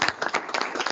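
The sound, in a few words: applause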